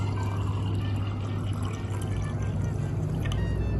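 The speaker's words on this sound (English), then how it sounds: "So pour it gently and slowly." Drinking water poured gently and slowly into a water goblet at a restaurant table, a steady continuous pour under a constant low hum.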